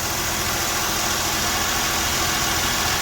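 A Nissan Almera 1.2 engine with a stumbling fault idles in a steady, loud, close drone with no talking over it.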